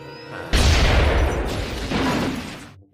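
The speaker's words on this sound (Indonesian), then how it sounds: "kemudian bom itu meledak menewaskan Johnson" Bomb explosion in a film, a sudden loud boom with a dense crashing, rumbling blast that lasts about two seconds before cutting off.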